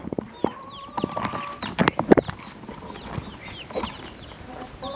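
Young bantam chickens, fully feathered and recently let out of the brooder, cluck and chirp outdoors as they run about, with scattered calls and small rustles at moderate distance.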